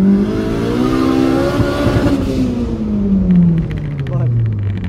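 A Honda Civic Si tuned to 380 hp revs loud and close, its engine note climbing and then falling in a strong harmonic sweep with a rough, raspy edge.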